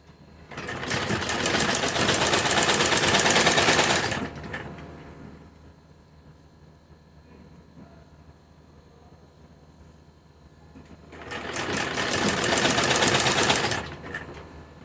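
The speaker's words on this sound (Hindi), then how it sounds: "और इसकी किनारे पर सिलाई लगाते हुए जाएंगे" An electric sewing machine stitches piping along the round neckline of a kurti, running in two steady, close bursts of rapid needle clatter separated by a quiet pause.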